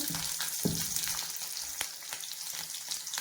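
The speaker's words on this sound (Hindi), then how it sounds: "और यह मैंने बस मिर्च का छौंक लगाया है।" Chilli tempering sizzles in an iron kadhai, a loud steady crackle and hiss of hot oil close up, with a few sharper pops through the sizzle and no talking.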